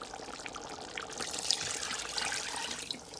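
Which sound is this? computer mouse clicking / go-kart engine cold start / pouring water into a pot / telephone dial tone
pouring water into a pot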